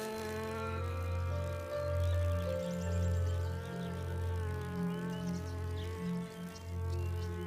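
Bees buzzing close as they fly in to land on flowers, a faint steady droning hum with wingbeat tones rising and falling over several seconds.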